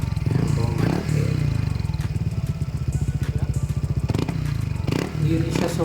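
A Honda ADV160 scooter with an MT8 aftermarket exhaust pipe revs repeatedly up and down, loud and close, with a rapid pulsing exhaust note between throttle blips.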